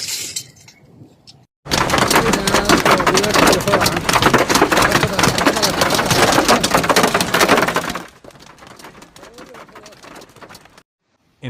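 Hailstorm with heavy rain over farmland and rural streets around Lini, Rizhao and Zibo in China: a loud, dense, continuous roar of pelting ice and rain for about six seconds, with softer patter before and after.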